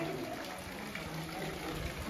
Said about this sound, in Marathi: पाणी येतं.